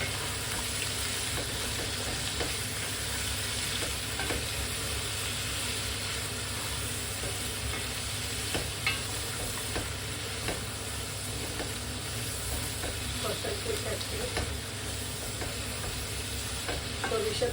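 Meat sizzles steadily in hot oil in a pot while being cooked down for biryani, with occasional stirring scrapes over a continuous frying hiss. No voices.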